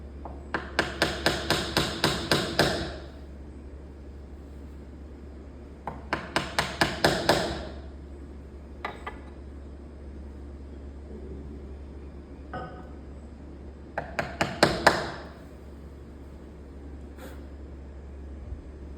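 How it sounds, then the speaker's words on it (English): Mallet blows driving a small butt chisel into wood end grain while cutting a knife hinge mortise, heard as three close bursts of rapid sharp taps, each with a final harder strike, and sparse single taps between them. "we have a bunch of these little butt chisels, and they're great for this kind of operation"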